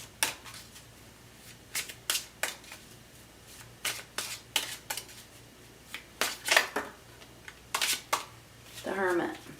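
Tarot cards are handled and drawn during a reading, a series of quick close crisp shuffles and snaps in uneven bursts, with a brief voice near the end.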